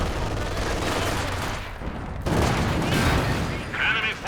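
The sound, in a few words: 152mm artillery fire in video game Company of Heroes 2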